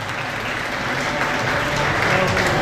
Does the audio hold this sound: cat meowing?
no